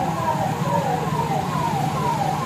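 An ambulance siren wails steadily, its pitch rising and falling in a repeated rhythm, heard at moderate distance over low traffic rumble.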